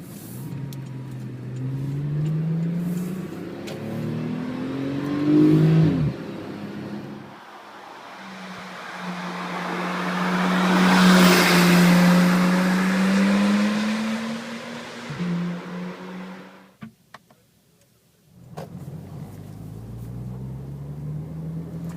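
Porsche 911 Turbo driving with its engine note rising and falling across the run, revving up near the middle, a brief drop toward near silence, then pulling away again; no talking.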